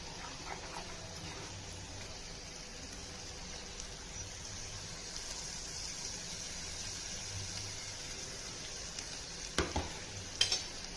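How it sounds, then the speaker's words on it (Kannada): Cooked lentils stirred into tomato dal in a pan, a faint soft sizzle and scraping that runs continuously, with a few louder clinks near the end and no voices. "ಬೇಳೆ ಹಾಕ್ಬಿಟ್ಟು ಚೆನ್ನಾಗಿ ಮಿಕ್ಸ್ ಮಾಡ್ತೀನಿ."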